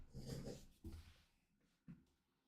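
A dog lets out a few short, faint whimpering and snuffling sounds, three brief bursts close by in an otherwise quiet room with no speech.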